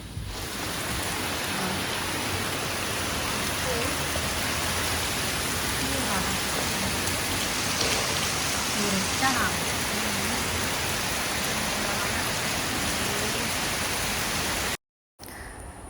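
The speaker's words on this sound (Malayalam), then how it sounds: "ഇതിൽ ഭയങ്കര മഴ കേട്ടോ" Heavy rain falls outside, a steady dense hiss that continues throughout and briefly cuts out near the end.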